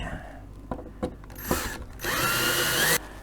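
A power drill with a Phillips bit drives screws into a ladder in short bursts, then runs steadily for about a second, close by, with light clicks and handling noises between.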